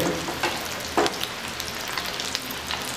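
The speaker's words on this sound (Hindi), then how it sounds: "इस तरह से प्रॉन्स को फ्राई कर लेंगे" Prawns fry in a pan for chilli prawns, browning to golden. A steady, close sizzle runs throughout, broken by a few soft stirring knocks.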